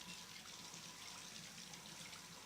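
Hot, steamy water pours steadily into a bathtub as a continuous broadband rush with no voices over it.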